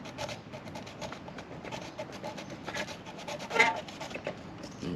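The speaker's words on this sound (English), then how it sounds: "the first thing I need to do is sand down the area where it's going to go" Sandpaper rubbing the surface of a fishing rod to roughen a spot for a RodTeck hook keeper, a close, continuous rasping scrub with uneven strokes and one louder pass.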